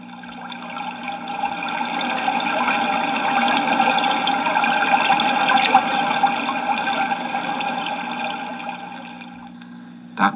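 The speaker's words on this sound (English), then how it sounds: "That was a brook in the middle of the woods." A brook flowing through the middle of the woods gives a continuous, even rush of running water, swelling slightly midway and holding steady throughout, heard alone with a faint background hum.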